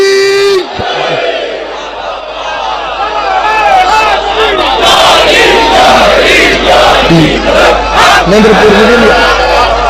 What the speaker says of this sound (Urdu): دونوں بازو بلند کر کے حیدری